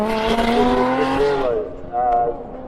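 A supercharged hill climb race car making around 800 horsepower roars loudly and close, its engine note climbing and wavering before easing off briefly and surging again.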